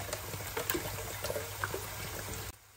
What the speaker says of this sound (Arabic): بدي أحط ماء ساخن كمان هون بطنجرة